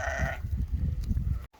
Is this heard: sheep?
yes